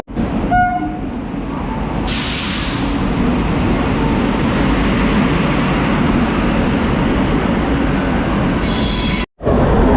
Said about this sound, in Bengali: দুটো বেজে পনেরো মিনিটে আমাদের ট্রেনটা এলো